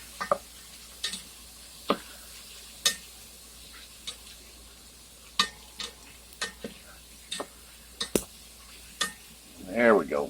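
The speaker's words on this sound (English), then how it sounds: "There we go, making a good old roux." Flour being stirred into fat to cook a roux for turkey soup, with a spoon scraping and knocking against the pot in irregular strokes over a faint sizzle, close by.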